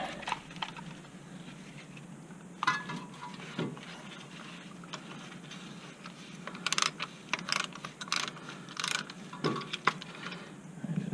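Ratcheting tool pressing brake caliper pistons back during a Nissan Frontier brake job, giving irregular bursts of quiet clicking, ratchet ticks and mechanical rattles close by against a low steady background.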